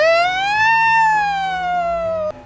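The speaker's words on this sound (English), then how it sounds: "Siren on." A police car siren in the game Flashing Lights gives one loud, clean wail that rises and slowly falls, sounding alone before cutting off abruptly.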